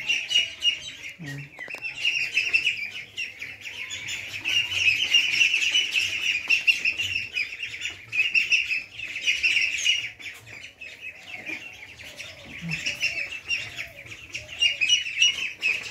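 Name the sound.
Peking ducks calling in an indoor duck farm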